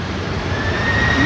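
A jet airliner landing on runway 18R at Amsterdam Schiphol roars with its thrust reversers, a loud, steady, broad engine rumble lasting the whole moment.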